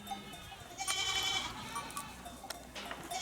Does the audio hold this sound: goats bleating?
yes